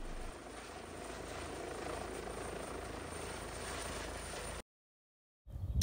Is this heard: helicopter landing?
yes